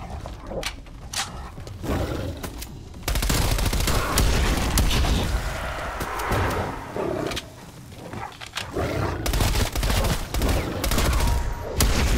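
Assault rifle fire in Call of Duty: Black Ops Cold War zombies mode, loud sustained bursts and volleys mixed with roaring creature noises and game effects, dense and continuous through most of the stretch.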